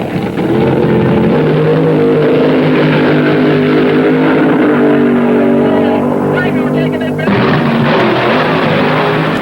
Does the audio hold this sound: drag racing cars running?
yes